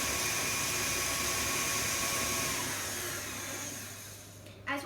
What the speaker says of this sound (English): you might have to stop the mixer a few times to scrape down the side of the bowl